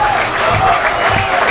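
Cheering crowd at a Louisiana high school state championship baseball game as the count reaches two strikes, a steady, loud roar of many voices with no break across the short stretch.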